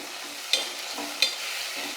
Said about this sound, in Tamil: வெங்காயமும் நல்லா வதங்கட்டும்